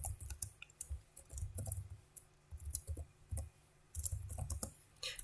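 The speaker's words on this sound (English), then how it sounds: "So I will be typing sudo chmod." Someone types a Linux command on a computer keyboard, producing irregular bursts of close, crisp key clicks with brief pauses between them and no talking.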